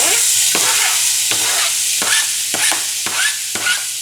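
Vegetables sautéing in a pan for creamy coconut salmon, a steady close sizzle broken by a spatula scraping and stirring about once or twice a second, with no voices.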